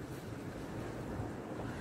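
Cool wind blows steadily outdoors, a continuous soft rushing with some buffeting on the microphone and no voices.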